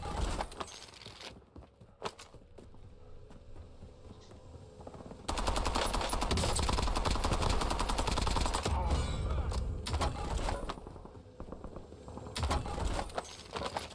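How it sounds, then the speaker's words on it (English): Sustained automatic gunfire from a Warzone firefight, with scattered shots early, then a long, loud, continuous burst of rapid fire and further bursts toward the end, close and dominant. "Kind of had to shoot him"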